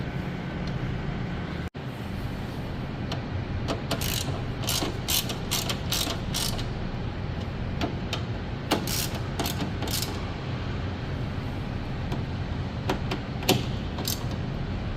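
A hand ratchet clicks in rapid bursts while screwing a kidney grille back onto a BMW E90, close and crisp, with short runs of ticking pawl clicks separated by pauses and a few scattered single clicks.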